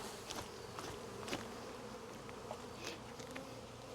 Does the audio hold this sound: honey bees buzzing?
yes